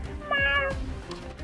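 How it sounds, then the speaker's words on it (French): A cartoon cat lets out a clear, close meow, and a second drawn-out meow follows with a bending pitch. "Ah, c'est toi alors, le petit chat."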